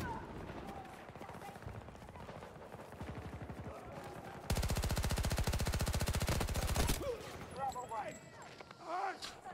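Rapid automatic gunfire from a shooter video game, a sustained loud burst of closely spaced shots lasting a few seconds, with sparser shots before it and players talking over the action.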